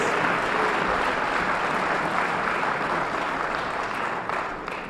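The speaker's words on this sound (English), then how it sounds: "Give yourselves a round of applause for your generosity" A large audience at a public debate in Harlem applauds itself, a thick continuous roar of clapping that holds steady and then begins to taper off at the very end.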